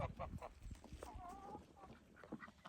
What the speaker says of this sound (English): And like all snow days, the ducks and geese are out.